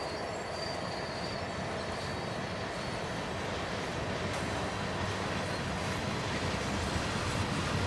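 A freight manifest train departs in Train Sim World on the Cumberland to Rockwood line, steady rolling rumble of wheels and cars with faint metallic squeal, continuous and moderately distant, with no talk.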